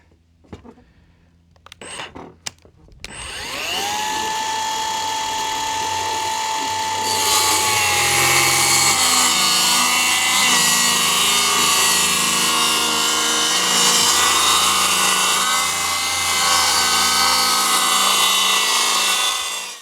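A power saw cuts through a wall board for a solar-powered off-grid shed, starting after a few handling knocks and then whining loud and sustained for most of the clip, close up.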